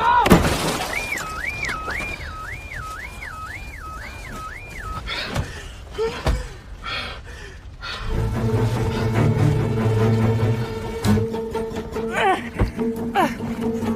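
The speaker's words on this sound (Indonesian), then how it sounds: "Tak ada cara lain selain mempeskeun kaca mobil." Glass is smashed in a car window trapped under fallen rocks, a sharp shattering crash followed by scattered thuds and debris, preceded by a whistling warble and ending with a steady mechanical tone.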